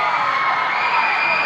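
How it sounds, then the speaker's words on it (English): A crowd cheers loudly at a girls high school volleyball game between Lynn Classical and Lynn English, with sustained shouting and whooping filling the whole moment close by. "And the crowd is loud for Barker."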